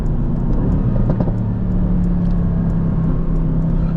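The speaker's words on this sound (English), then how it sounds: "Downshifts sound beautiful." A Mercedes-AMG GT C engine rumbles steadily, with brief revving blips as it drops gears, heard close and continuous with no voices.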